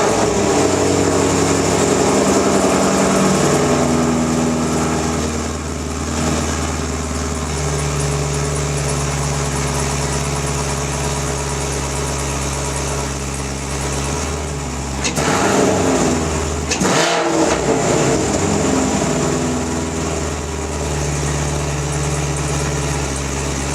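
A car with newly installed MSD ignition wires fires up and settles into a steady, fairly loud idle that runs for over twenty seconds, with a brief revving surge partway through and no talking.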